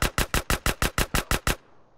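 A rapid burst of about ten submachine gun shots in GTA San Andreas, even rhythm, crisp and close, followed by a brief fading tail.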